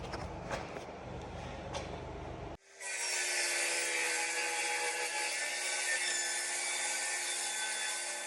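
Reclaimed beadboard wood is sawn in a continuous, loud rasping stroke that starts abruptly after a few quieter moments of handling noise and carries on steadily to the end.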